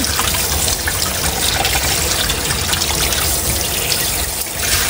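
Raw langisi fish for sinigang is rinsed under running water, a steady splashing trickle with gushing bursts that fills the whole stretch without any talk.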